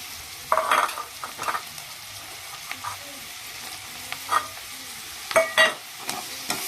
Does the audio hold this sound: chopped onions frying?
yes